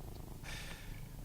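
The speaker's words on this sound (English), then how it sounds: "that's probably the cat purring or sniffing the microphone" A pet cat sitting on a lap near a microphone purrs softly, a low steady rumble with a brief breathy burst partway through, faint and alone.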